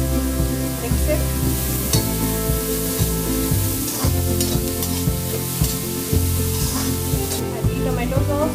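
Sweet corn chaat tossed with cumin powder, black pepper, red chili powder and salt, giving repeated rhythmic scraping and mixing strokes in a bowl, close and moderately loud, with a voice briefly heard.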